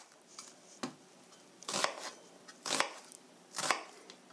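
A knife chops onion on a cutting board in four distinct, sharp strikes spaced about a second apart, each with a short crunchy tail, close and clear against a quiet kitchen with no talking.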